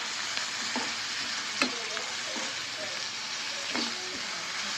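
Garlic pieces fry steadily in a pan with a faint, continuous sizzle, and a few sharp spoon clicks or stirring knocks break through along the way.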